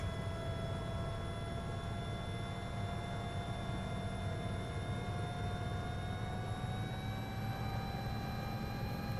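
An EMS helicopter's rotor spinning up toward operating RPM, a continuous turbine whine with steady tones slowly rising in pitch over a dense low rumble, constant and loud throughout with no talk.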